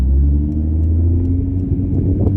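A Nissan Skyline R32 pulls away, its engine giving a steady, loud, low rumble with a slight rise in revs near the end. The car is close and heard with no talking.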